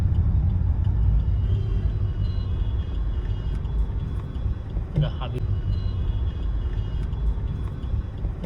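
Continuous traffic rumble fills the road near Bhiwandi junction, with engines droning steadily and a brief louder passing vehicle sound in the middle.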